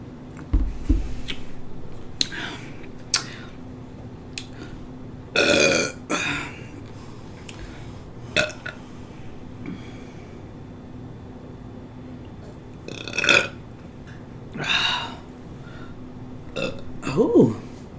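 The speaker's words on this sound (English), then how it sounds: "I can't get these burps out with dark soda." Loud burps after drinking dark soda come in a string of separate bursts, some long and croaking, others short, spaced with pauses and mixed with bits of talking.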